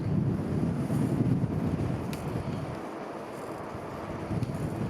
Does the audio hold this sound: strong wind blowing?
yes